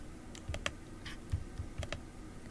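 Typing on a computer keyboard: a quiet, irregular run of sharp key clicks, about a dozen strokes close by in an otherwise silent room.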